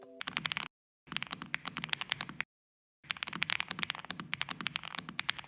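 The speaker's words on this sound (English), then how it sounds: "there's also the typing sound and feel, which is just amazing. Have a listen to this" Rapid, crisp keyboard typing in quick bursts separated by brief silences, close and clear with no voices.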